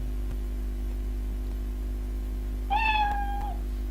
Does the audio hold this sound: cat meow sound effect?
yes